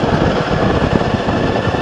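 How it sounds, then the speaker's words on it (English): A 90-degree V-twin scooter engine rumbles steadily and close, a continuous low, throaty drone with no pauses and no voices. "This engine sounds good."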